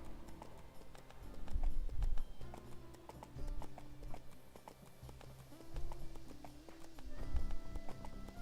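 Horse hooves clip-clop steadily in EverQuest 2 as a rider travels on a mount. The quick, regular hoofbeats sit over soft, sustained game music.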